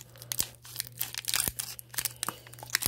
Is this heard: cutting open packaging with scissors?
yes